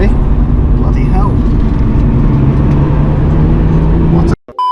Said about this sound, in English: I've got a car coming up behind me.